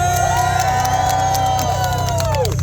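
Spectators at the HDR 6th edition 2023 car show cheering and whooping for a Passat, a loud near burst of voices over a constant low rumble, fading out at the end.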